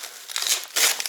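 Plastic packaging being torn and crinkled off the seat of an electric kick scooter kit: two close bursts of crackling, rustling plastic, the second sharper, with no talk.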